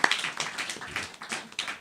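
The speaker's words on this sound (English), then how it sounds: "big round of applause" An audience at a Sunday temple program claps briefly, a short run of quick, uneven handclaps heard close and at moderate loudness.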